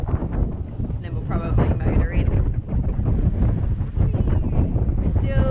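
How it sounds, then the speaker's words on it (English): Wind roaring across a sailboat after tacking past a point at around 5 to 6 knots, a steady loud buffeting rush on the microphone with splashing water and a person speaking over it. "Pretty good wind."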